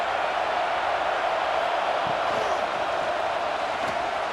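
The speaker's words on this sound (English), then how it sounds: "This crowd bringing the energy and noise early." A home stadium crowd at an Ohio State versus Rutgers college football game roars as a steady, dense wash of noise, far and continuous, with faint voices mixed in.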